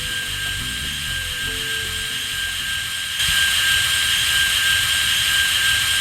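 A looping turret-rotation effect for a Unity combat game: a steady mechanical whir with a high whine that jumps noticeably louder partway through and holds there.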